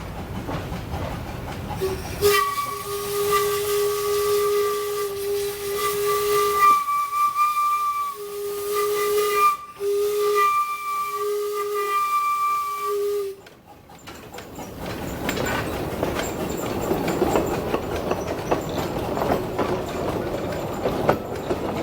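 Lake Linden and Torch Lake No. 3, a steam locomotive, arrives at the station, its whistle sounding steady and loud for several seconds over a rumbling approach, then a long broad hiss of released steam.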